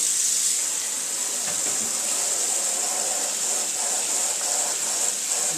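Tap water runs steadily into a sink, rinsing yellow screen-printing emulsion out of a Yudu screen; a continuous, fairly loud hiss with faint splashing and no talk.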